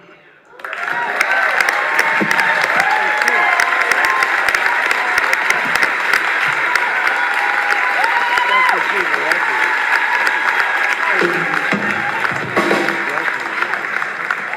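A festival audience breaks into loud, sustained applause and cheering after a trio's performance at a Black women's roots festival, a dense roar of clapping with whoops that starts abruptly and runs on, a voice speaking over it.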